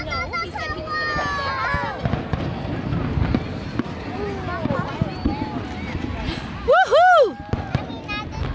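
Fireworks display at Orchard Beach in the Bronx, with a run of distant pops and crackles under steady chatter, then a sharp whistling burst near the end, while people talk and react throughout.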